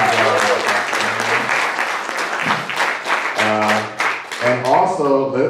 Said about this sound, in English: I want to give another round of applause to Jill